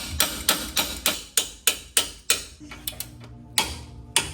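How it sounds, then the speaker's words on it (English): A hammer strikes the lower strut onto the lower control arm of a 2025 Toyota Land Cruiser during a 3.5-inch lift install: a quick run of about a dozen sharp, close metallic blows at a steady rhythm, with a brief pause near the end. "reinstall the lower strut onto the lower control arm. And it should go on just like that, and just hammer it with something"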